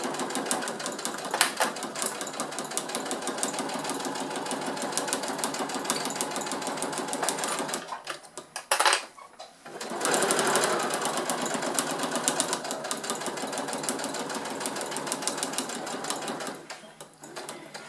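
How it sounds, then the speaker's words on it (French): A sewing machine stitching fabric for a multi-pocket pouch runs in a steady, close, continuous whir, stopping briefly midway while the fabric is turned, then starting up again and running on. "Lorsque j'arrive à 1 cm du bord, je plante mon aiguille, je lève le pied, je tourne mon tissu"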